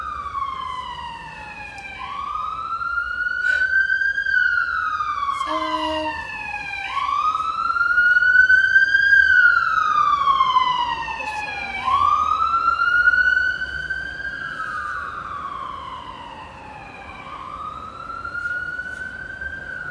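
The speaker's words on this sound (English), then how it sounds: "there's sirens in the background." A wailing siren sweeps up and down in long repeated cycles, fairly distant, over a low rumble of traffic.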